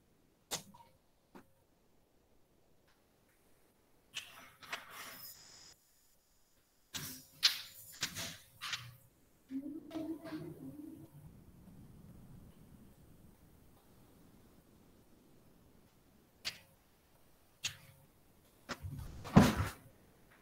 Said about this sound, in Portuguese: só um minutinho que eu vou só abrir a porta ali